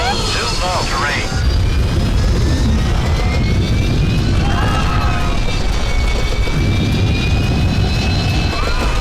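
World War II aircraft roar past in the Flight World War II video game, loud engine drone with rising and falling whine as planes pass close, accompanied by in-game voices and cockpit sounds.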